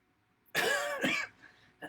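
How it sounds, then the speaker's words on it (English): Two quick, harsh coughs from a person recovering from COVID, close up, followed by a faint breath and a short throaty catch, in an otherwise quiet space. "releasing extra cough from my COVID stuff"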